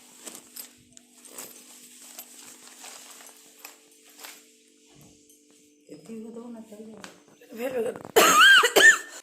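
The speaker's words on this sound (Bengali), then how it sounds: "কাশি আমার আর কমবে না" A person coughs several times in short, sharp bursts over a quiet room, before voices rise and a loud burst of noise ends the scene.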